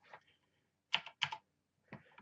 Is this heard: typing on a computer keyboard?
yes